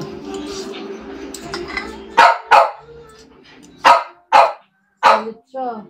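A dog gives several loud, sharp barks in short bursts, close to the listener, after muffled talk and background sounds at the start.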